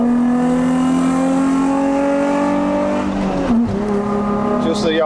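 A Nissan 350Z with a six-speed manual and 3.5-litre VQ35DE V6 pulls up a wet mountain road in Malaysia, its engine droning steadily in a rising tone, then dipping briefly as if on a shift before pulling again, with talk inside the cabin.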